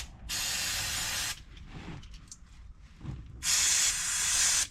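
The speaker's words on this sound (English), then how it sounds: "Bit of brake cleaner." Brake cleaner hisses from an aerosol can in two sustained bursts, each about a second long, with quieter workshop handling noises between them.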